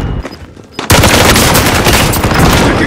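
Video game gunfire from a Warzone Rebirth match bursts in suddenly after a quiet moment, a loud, sustained rattle of rapid automatic shots that runs to the end.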